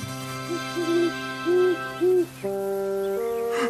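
A cartoon owl hoots in a quick series of short, clear, resonant calls, loud and close, followed by a steady sustained musical tone.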